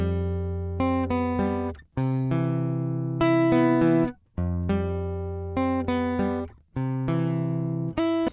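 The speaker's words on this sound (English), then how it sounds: "It's an acoustic guitar, an electric acoustic, so we're hearing that signal from the cord straight into my audio interface" Electric acoustic guitar played raw and direct through its cable into an audio interface, strummed chords ringing in close, dry bursts of about two seconds each with short gaps between phrases.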